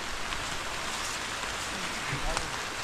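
Rain pouring down outdoors, a loud, unbroken hiss of drops striking surfaces, with a few brief knocks and faint sounds of activity mixed in.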